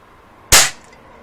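One sharp, close gunshot from a gun just after oiling, a sudden loud bang whose echo tails off within a fraction of a second, alone without voices.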